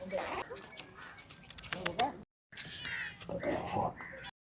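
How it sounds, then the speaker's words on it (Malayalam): A cat wandering around a Sri Lankan railway station meows several times in short, close calls, interleaved with people talking nearby. "ഒരു പൂച്ച ഇതൊക്കെ കറങ്ങി വന്നിട്ടുണ്ട്"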